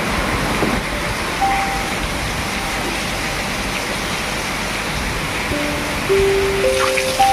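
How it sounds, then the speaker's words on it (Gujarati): Heavy rain pours steadily in Morbi, a dense, even wash of noise that holds at one level throughout, with a few faint tonal whines rising briefly near the end. "તો જો મિત્રો કેવો વરસાદ પડી રહ્યો છે આજે"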